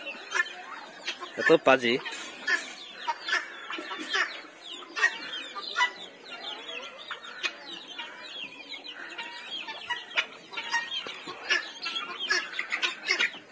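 Backyard chickens and a turkey cluck repeatedly in short bursts while the turkey chases the birds, close by and moderately loud, with a person briefly speaking.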